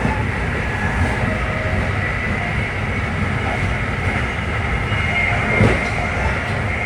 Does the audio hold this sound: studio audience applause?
no